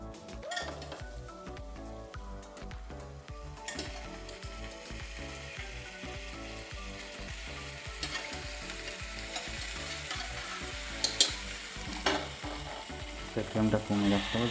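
Mutton pieces frying in spice masala in a pan on a gas stove, a steady loud sizzle with stirring scrapes and occasional clinks of utensils throughout, no talking.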